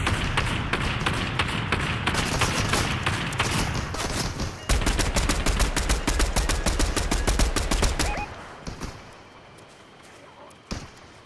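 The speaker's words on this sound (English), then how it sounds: "People shooting at us." Gunfire in the Fortnite video game: rapid, evenly spaced automatic shots in long loud bursts, then fading to sparse faint pops with one last sharp shot, with people talking over it.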